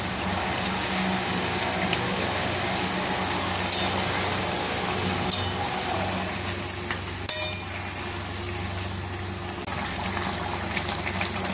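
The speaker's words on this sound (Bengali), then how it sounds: "তেলটা দিয়ে 1 মিনিট ফুটিয়ে নেবো" Katla fish curry with green chillies and raw mustard oil simmers steadily in a pan, giving a continuous bubbling, sizzling hiss with a few small pops and no talking.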